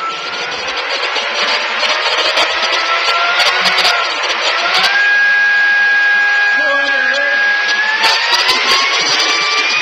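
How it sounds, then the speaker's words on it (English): Electric fan motor driven at 100 hertz, whirring steadily with a rising pitch as it speeds up, a constant mechanical hum with a faint high whine. "We're looking at this fan producing 60 hertz, same as Edison Company frequency now."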